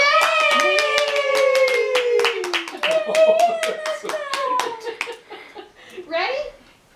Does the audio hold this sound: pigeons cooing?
no